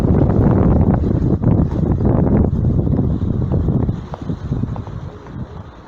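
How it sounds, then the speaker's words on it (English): Strong wind roars and buffets the microphone in a steady, loud rush outdoors, easing slightly toward the end. "But it's windy though."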